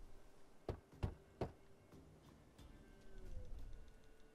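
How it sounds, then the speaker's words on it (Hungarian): Three sharp knocks on a wooden door in The Witcher 3: Wild Hunt, evenly spaced, close and loud, followed by a low rumble of game ambience. "Kopogjunk."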